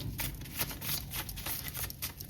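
Tarot cards are shuffled by hand in a continuous papery riffle and flutter, close and steady, with no talking.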